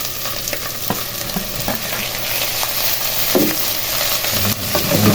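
Chicken feet frying in a pan are stirred, with steady close sizzling and clinks and scrapes of the utensil against the pan throughout.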